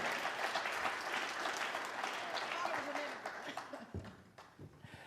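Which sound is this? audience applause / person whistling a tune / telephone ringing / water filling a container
audience applause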